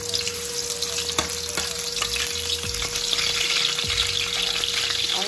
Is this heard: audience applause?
no